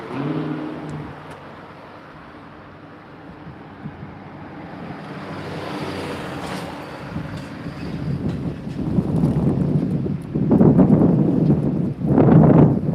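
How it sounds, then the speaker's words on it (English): Wind gusts buffet the microphone on a street during a daytime walk in Raleigh, a low rumbling roar that builds from fairly quiet to strong, heavy blasts toward the end, with faint traffic beneath. "Pretty windy right now."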